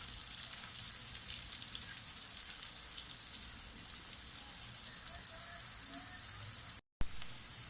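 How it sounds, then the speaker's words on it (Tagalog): Garlic and onion sautéing in a pan for arroz caldo make a continuous crackling sizzle like light rain. It is steady and close, with a brief dropout near the end and no talking. "So, lulutuin na natin yung bawang sibuyas."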